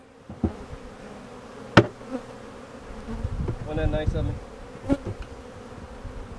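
Honeybees swarming around an open hive during supering, a close buzzing drone that rises in a dense burst midway, mixed with knocks and handling clatter, and someone speaking briefly.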